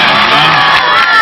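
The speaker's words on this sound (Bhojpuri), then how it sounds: "जोरदार ताली हो जाए।" A loud, dense burst of crowd cheering and shouting at an evening Ganga Mahotsav cultural programme in Bara, Ghazipur, a bright roar from a large audience lasting about a second.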